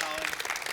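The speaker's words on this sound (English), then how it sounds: "Let's give a round of applause for Holly." Audience applause for presenter Holly at the end of a bridal bouquet demonstration, a brief dense burst of clapping with voices mixed in.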